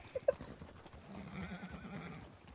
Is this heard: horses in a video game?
yes